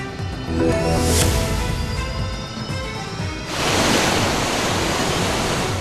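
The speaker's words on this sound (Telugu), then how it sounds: "గలగల పారుతోన్న గోదావరిని" The Godavari river flows with a broad, steady roar of rushing water, faint tonal sounds in the early part, and a fuller surge in the second half.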